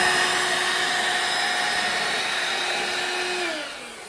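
A vacuum cleaner whines steadily at close range, its motor pitch holding even before dropping slightly as it winds down near the end.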